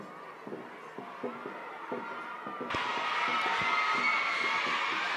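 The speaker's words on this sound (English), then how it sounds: "we've got a lot of Thai kids and they're cheering loud for their Thai team" At the 16th IDBF World Dragon Boat Championship in Thailand, steady rhythmic drumbeats from the race give way to a sudden swell of loud cheering from Thai children in the grandstands, which holds at a constant roar.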